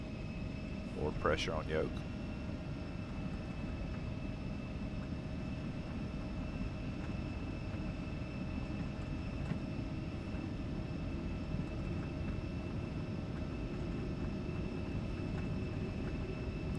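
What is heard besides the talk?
Embraer E175 engines at takeoff thrust, X-Plane 12 video game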